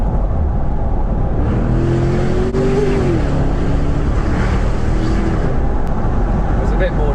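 Range Rover P530 4.4-litre V8 (2023 L460 Vogue) with a Quicksilver sports exhaust, dropped a couple of gears in manual mode, gives a deep, steady burble with rising engine harmonics under ongoing talk in the cabin.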